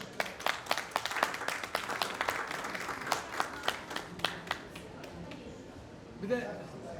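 A concert crowd in Antalya claps to welcome a singer onstage, sharp individual claps standing out over a thinner scattered applause that fades toward the end, with some talk mixed in.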